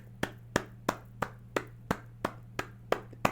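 Slow, steady clapping at a church-style sermon, about ten evenly spaced claps ringing out clearly over a low steady hum, with no talk.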